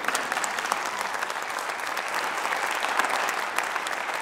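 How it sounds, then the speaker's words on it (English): An audience applauds at a Copper Hills High School band winter concert, giving dense, continuous clapping from a full room that stays even and fairly loud throughout. "So let's give them a round of applause."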